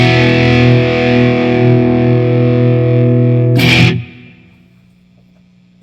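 One sustained, saturated chord rings from a 1996 Fender Stratocaster Ultra on a Marshall-style crunch tone boosted by a screamer overdrive pedal. A brief scratchy burst cuts it off and a faint tail follows, with no voices.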